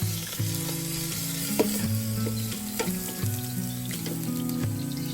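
Ground meat (giniling) fries in a pan with a loud, continuous sizzle, with stirring scrapes and clinks running through it. A strong tonal melody plays along underneath.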